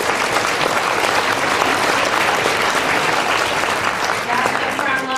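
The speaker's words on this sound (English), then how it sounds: "Let's give them all a round of applause." Loud, dense applause fills a room of Tea Party delegates at the California Republican Convention, a continuous roar of many hands at close range that holds steady to the end.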